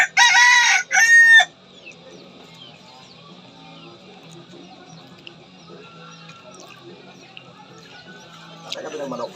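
A rooster crows loudly twice in quick succession up close, followed by a long stretch of faint background hum and a brief soft clucking near the end.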